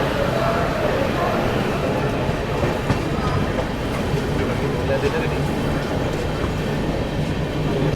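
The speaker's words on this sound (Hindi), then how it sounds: "अभी अपनी ट्रेन निकल रही है मिर्ज़ापुर रेलवे स्टेशन से" Brahmaputra Mail pulling out of Mirzapur railway station, a steady dense rumble of rolling wagons with faint clickety-clack, heard from on board and continuous throughout.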